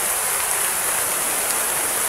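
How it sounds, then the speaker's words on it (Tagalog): Heavy rain pours down in a dense, steady hiss, loud and unbroken for the whole moment, with no voices over it. "Kasi grabe yung pag-ulan mga idol."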